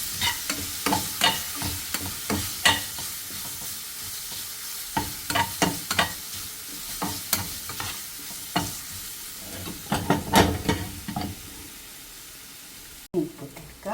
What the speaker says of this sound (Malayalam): സവാള ഒന്ന് വാടിയിട്ട് കുറച്ച് ഇഞ്ചി വെളുത്തുള്ളി പേസ്റ്റ് ഇട്ട് കൊടുക്കാം.